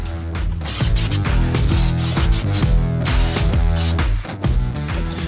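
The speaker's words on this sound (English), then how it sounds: "So let's go ahead and tighten that up." Rapid, steady ratchet clicking from a hand tool tightening mud flap bolts on a 2021 third-generation Ford F-150 Raptor, close and loud, with brief pauses between runs of strokes.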